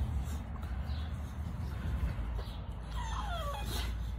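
A dog whimpers and yips in short, rising whines near the end, close by and over a rough, noisy background.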